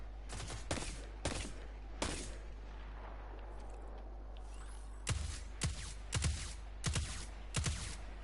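Gunfire in Destiny aimed at an arc collectable, loud sharp shots fired singly and in quick pairs, a few early and then a rapid cluster of about five toward the end, over a steady low hum.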